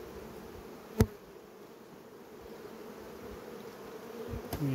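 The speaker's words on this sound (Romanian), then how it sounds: "Aici sunt niște trântori care trebuie eliminați." Honeybee drones buzz inside a beehive with a steady, soft droning hum, joined by a sharp click near the start and a few faint knocks toward the end.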